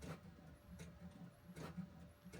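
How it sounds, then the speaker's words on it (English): A 3D printer works in a room, a faint, steady whirring and rhythmic motor stepping that repeats throughout. "I might tweak a couple of options on the printer."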